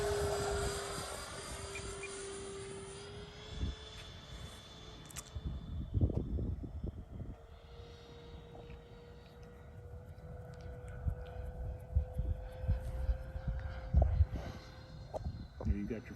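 A Freewing twin 70mm EDF AL-37 RC jet flying overhead with a steady ducted-fan whine that rises and falls as it passes, heard at a distance under people talking.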